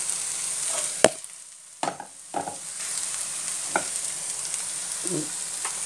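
Crumbled puttu being stirred with herbs in a pan: a few sharp scrapes and clinks of a spoon against the pan, spaced out over a quiet background, close and moderately loud.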